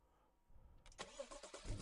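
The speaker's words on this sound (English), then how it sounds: "So now, when the car starts up," A car engine cranks and catches partway through, then settles into a rough running sound, fairly quiet and with no talk.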